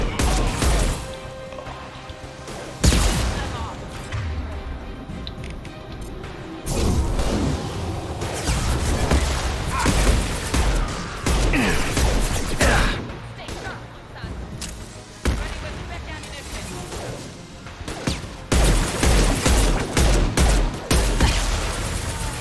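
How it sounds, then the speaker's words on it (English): Gunfire and impact blasts in Mass Effect 2 combat, with repeated loud bursts and crashes throughout and a voice talking over the game action. "Firing an impact shot!"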